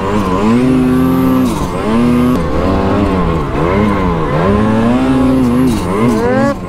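A Polaris snowmobile engine runs loud and close at about 1100 RPM, its pitch rising and sagging unevenly as it struggles to hold an idle.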